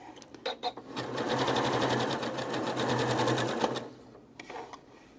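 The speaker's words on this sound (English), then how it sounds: "I love this sewing machine, but it's noisy sometimes." A Janome S7 sewing machine runs in a rapid, even mechanical stitching burst of about three seconds, bracketed by a few brief clicks before and after.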